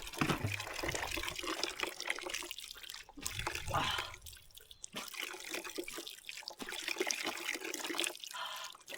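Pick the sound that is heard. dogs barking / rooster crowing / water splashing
water splashing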